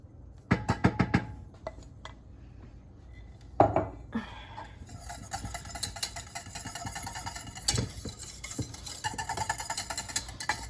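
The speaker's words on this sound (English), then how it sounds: "you're gonna continuously stir" An ice cream custard mixture is stirred continuously in a pot, a spoon scraping and clinking against the metal in an uneven rhythm over a faint hiss, close, with no talking.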